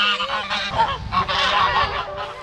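A Canada goose gives a quick series of loud, nasal honks, several calls close together and near, with no talking.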